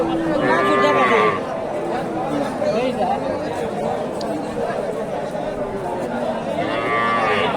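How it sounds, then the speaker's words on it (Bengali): Cattle lowing at a busy cattle market (haat) in Bogura, Bangladesh, where Sahiwal and crossbred cows are sold; two moos, one at the start and one near the end, rise over steady crowd chatter and talk. "অনেক উঁচা লম্বা একটা গরু"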